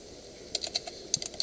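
A few light keystrokes on a computer keyboard while entering a login email, heard close and soft over a faint room hiss.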